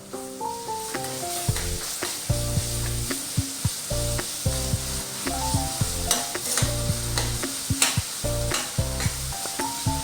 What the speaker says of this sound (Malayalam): ഈ സമയത്ത് നമുക്കിതിലേക്ക് നമ്മൾ അരച്ച് വെച്ചേക്കുന്ന ജിഞ്ചർ ഗാർലിക് പേസ്റ്റ് ഇതിലേക്ക് ഒന്ന് ഇട്ട് കൊടുക്കാം.